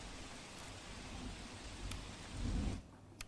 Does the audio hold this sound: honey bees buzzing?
no